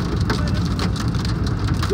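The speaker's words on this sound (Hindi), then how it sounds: "लेकिन ओले जो गिर रहे हैं क्या आवाज आ रही है" Dense, steady pattering of hailstones drumming on a car's metal body, loud and continuous throughout.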